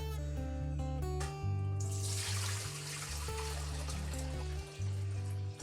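Whey poured off fresh mozzarella curds into a pan, a steady liquid splash and trickle that swells loudly and runs continuously, with a tonal hum sitting underneath.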